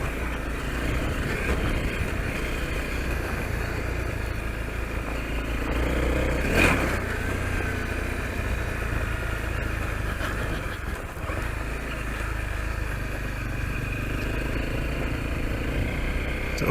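A Honda CRF250L dirt bike rides off-road at Prairie City Off Highway Vehicle Park, its engine droning steadily and close with constant wind rush and no clear pauses.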